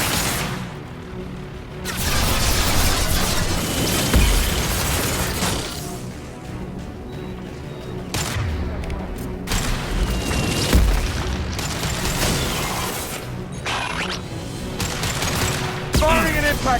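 High-impact gunshots in Mass Effect 2 ring out as several loud, booming blasts spaced a few seconds apart, with combat noise and voices talking in between.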